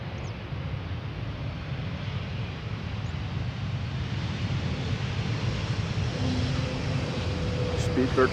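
A British Airways Airbus A321 airliner at Amsterdam Schiphol Airport on a misty day, a steady low jet roar rumbling throughout and building slightly toward the end, heard from a distance with no talking.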